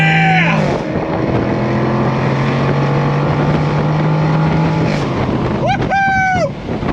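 A 2023 Jaguar F-Type V8 accelerating hard in first gear, its engine note rising steadily and loud with a gear-change dip near the end, while a person exclaims over it.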